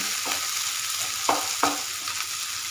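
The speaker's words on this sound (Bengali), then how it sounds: "চাউমিনটা আমি দিয়ে দিচ্ছি।" Chowmein noodles are tipped into frying vegetables and stirred, a steady sizzle broken by a few sharp scraping clacks of the spatula against the pan, close and clear.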